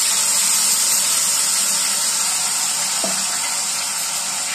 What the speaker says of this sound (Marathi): आता आपले मसाले फ्राय होत आहे